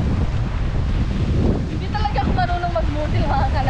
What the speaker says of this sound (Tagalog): Super lakas na hangin dito mga ka-loves.